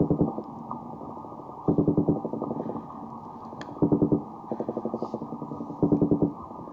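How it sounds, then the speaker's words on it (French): Male brown meagre (corb) singing underwater during spawning season in the Gulf of Lion, heard as bursts of rapid low drumming pulses repeating in clusters against steady murky background noise, with no voices. "c'est le corbe. Et le corbe, il émet ce son-là. Les mâles, quand ils sont prêts à se reproduire, ils chantent."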